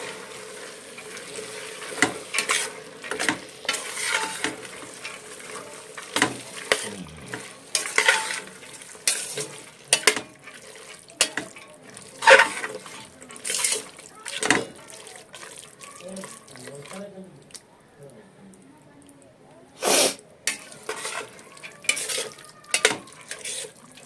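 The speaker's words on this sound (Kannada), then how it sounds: "ಅವರೇ ಬೇಳೆದು ಹಸಿ ವಾಸನೆ ಸ್ವಲ್ಪ ಹೋಗೋ ತನಕ ಫ್ರೈ ಮಾಡ್ಕೋಬೇಕು" Hyacinth beans (avarekalu) are stir-fried in a pan for pulao: a spoon scrapes and clatters in irregular strokes over a soft sizzle, with faint talking in the background.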